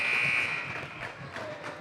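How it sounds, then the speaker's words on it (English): A buzzer sounds at the end of the first half of a high school varsity girls basketball game, a loud sustained electronic tone over crowd noise in a gym, cutting off after about half a second. "McFall drives, kicks it back out to Killingsworth to Motzke at the buzzer"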